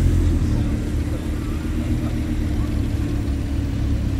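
A Lamborghini Gallardo LP 560 engine at a classic and modern car club gathering gives a steady, loud, low rumble throughout, with a voice faintly present over it.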